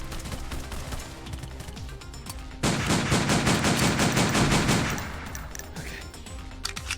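Gunfire in a virtual reality shooting game: quieter scattered shots at first, then a sudden loud burst of rapid automatic fire lasting about two seconds before fading back to lighter shooting.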